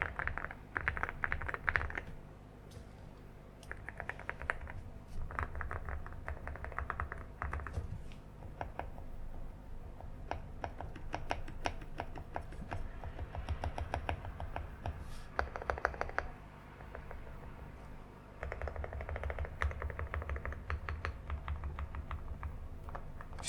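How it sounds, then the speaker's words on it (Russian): Someone types on a custom-built mechanical keyboard with an FR4 plate. Quiet, close-up bursts of clacky keystrokes come in short runs separated by brief pauses. "В итоге у меня получилась вот такая клавиатура, которая подходит под все мои параметры и приятно звучит"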